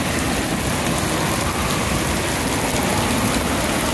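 Dense, steady pattering of hail striking surfaces all around in Sasebo, Japan, loud and continuous with no pauses.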